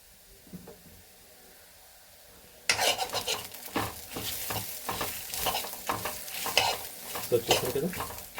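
Ridge gourd frying in a pan with salt, a steady close sizzle that starts abruptly partway through, with spoon scrapes and stirring clatter against the pan throughout.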